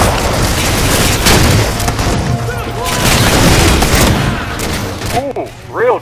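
Grenade explosions and rapid gunfire from Halo 4 video game combat, dense and loud throughout with booming blasts and bursts of shots, mixed with game voices and effects toward the end.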